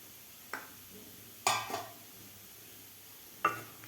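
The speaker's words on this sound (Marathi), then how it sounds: "तर झाकण काढून बघूया आपण" A metal lid lifted off a pan of moong dal sheera in a home kitchen: a few sharp clinks and clatters, one bright and loud, spaced apart over a quiet background.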